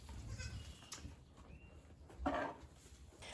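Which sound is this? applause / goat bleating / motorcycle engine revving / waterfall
goat bleating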